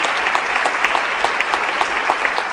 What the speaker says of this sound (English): I'm sorry about all the applause